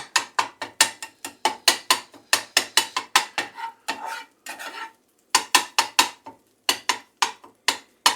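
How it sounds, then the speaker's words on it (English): Cooked eggs being chopped for fried rice, a quick run of sharp, crisp knife strikes on a cutting board in short rhythmic bursts with brief pauses, close and clear. "Just chopping up the eggs so that they blend nicely into the rice."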